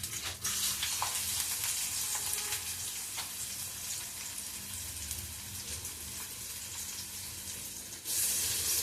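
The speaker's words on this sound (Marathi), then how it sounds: "थोडा कढीपत्ता आहे तो टाकते. थोडं जिरं टाकते. लसूण आणि कांदा." Curry leaves, cumin, garlic and onion sizzle steadily in a hot pan, a dense continuous frying hiss that holds throughout and swells louder near the end as more goes in.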